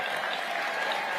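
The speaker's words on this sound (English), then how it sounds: "Round of applause for Kevin McGarry" A large crowd at the AmericaFest 2023 convention applauds in a brief, sustained wash of clapping, evenly dense and somewhat distant, with no voices over it.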